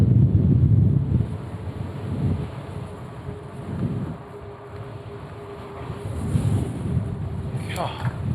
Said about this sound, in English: the wind has gotten crazy right down here